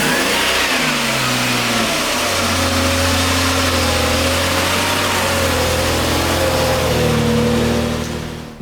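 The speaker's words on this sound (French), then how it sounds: "il y a un poussoir qui glace pendant un moment. Et il y a aussi manifestement une belle fuite à l'échappement quelque part." A cold convertible engine idles with a ticking lifter and an exhaust leak, a loud close rumble that rises and falls with a few revs and shifting tones, then cuts off at the end.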